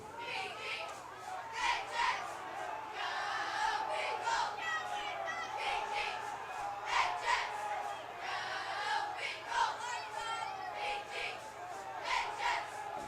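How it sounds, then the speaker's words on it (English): Crowd noise at a high school football game between Pleasant Grove and Spring Hill during the third quarter, a steady distant roar of voices with rising bursts of cheering and shouts, continuous throughout. "Here the cheerleaders getting the crowd fired up here in the third quarter"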